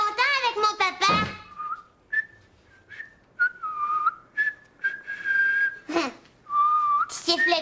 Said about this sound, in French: Tu siffles bien, papa.